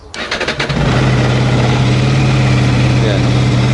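A Honda VFR800 motorcycle engine cranks briefly with a few starter pulses, then catches and settles into a steady, loud idle right next to the listener.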